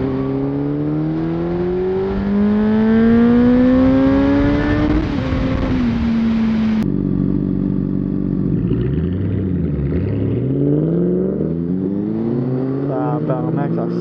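A full sport motorcycle engine revs up with rising pitch, then drops to idle and revs again in shorter bursts, loud and close with no talking.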